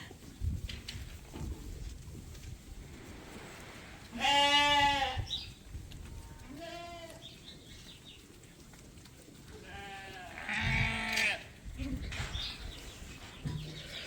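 Sheep bleat on a farm in winter with several loud, wavering calls close by, separated by quieter stretches of background rustle and faint farmyard noise.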